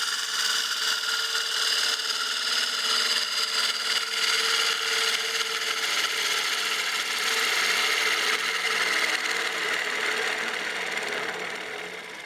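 A bowl gouge cutting a partially seasoned wood bowl spinning on a lathe, a steady close rasping hiss with rhythmic whirring from the turning blank, swelling and easing slightly as the cut progresses.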